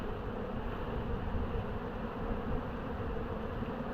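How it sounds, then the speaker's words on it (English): Honey bees swarm in a thick layer over hive frames during a split, a dense, continuous buzzing drone that stays close and steady throughout. "So we've got a blanket of bees"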